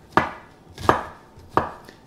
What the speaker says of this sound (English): So you want thinly sliced very thin onion.